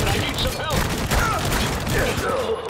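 Shotgun fire in Spec Ops: The Line, dense, loud gunfire and booming blasts running continuously through a chaotic firefight, with talk mixed in.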